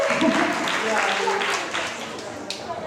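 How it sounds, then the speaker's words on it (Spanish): After a flamenco gala performance, an audience applauds in a dense wash of clapping that fades a little toward the end, with a voice talking over it. "Fuerte aplauso, que lo ha hecho genial"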